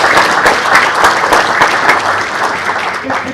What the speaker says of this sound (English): And how about a round of applause for the young ladies?